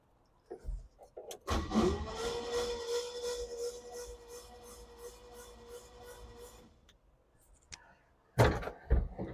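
Starter cranking the engine of an old 1967 Chevrolet C10 pickup truck, a steady rhythmic churning whir lasting several seconds without firing, framed by clunks and knocks before and after.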